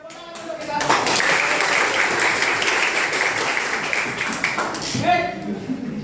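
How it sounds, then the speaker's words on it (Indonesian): A classroom of students claps together, a dense, steady burst of applause that starts abruptly, holds for about four seconds, then stops, followed by a teacher's voice. "tepuk tangan dulu kita"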